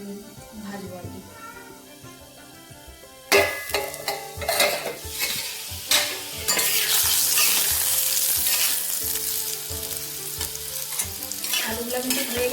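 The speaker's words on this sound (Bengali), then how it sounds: "বাকি আলুটা যতটুকু বাকি আছে ততটুকু ভাজবো আর কি।" Potatoes frying in a pan for a village-style dish, a hissing sizzle that swells and stays loud once stirring starts, with scraping and clanks from the utensil against the pan and a faint meow early on.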